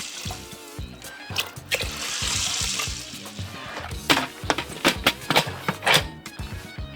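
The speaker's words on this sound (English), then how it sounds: "Yes, I'm adding 8 cups of water." Eight cups of water pour into a pot holding a pound of dry beans, a steady splashing gush that gives way to uneven sloshing and knocking, fairly close and with no talk.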